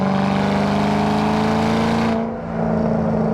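A 2007 Ford Mustang Shelby GT500 engine pulls away off gravel, its loud close drone holding steady and then shifting in pitch as the car gets moving.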